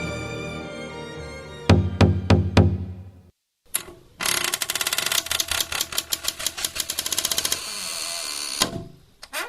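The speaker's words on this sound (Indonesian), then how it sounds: "Tiba-tiba terdengar ketukan pintu" Four sharp, evenly spaced knocks on a door, close and crisp, break over a sustained music tone during a school commencement performance, followed by a burst of rapid rhythmic tapping and music.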